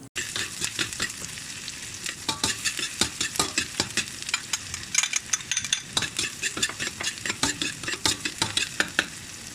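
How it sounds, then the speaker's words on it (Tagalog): Garlic and onion sauté in a pan for pork giniling, a steady sizzle broken by frequent scraping and clicking stirs that keep up a busy, uneven rhythm throughout. "Umpisahan natin sa paggisa ng bawang at saka sibuyas"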